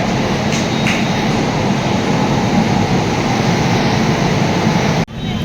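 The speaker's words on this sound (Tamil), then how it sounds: "இந்த ட்ரெயின் பார்த்தீங்கன்னா மயிலாடுதுறை கோயம்புத்தூர் ஜன்சதாப்தி எக்ஸ்பிரஸ்" The Mayiladuthurai–Coimbatore Jan Shatabdi Express sits at a station as a loud, steady broadband rumble and roar, continuous and close, cutting off abruptly near the end, with no talking.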